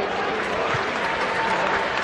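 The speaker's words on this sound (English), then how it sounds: "Now, give it a round of applause." Steady applause from a stadium crowd at a Central Coast Mariners versus South Coast Wolves FFA Cup football match, a dense continuous wash of clapping filling the whole moment at even volume.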